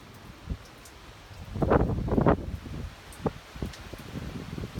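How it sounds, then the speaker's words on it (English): Hurricane Irma's gusty wind buffets the microphone in a few rough surges over a steady rushing background, swelling loudest midway before easing back. "Get some good gusts coming through every now and again."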